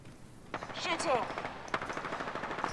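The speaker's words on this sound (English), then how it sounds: "There they are. Getting shot at." Automatic gunfire crackles in rapid bursts during an Apex Legends match, moderately loud and somewhat distant, with a voice talking over it.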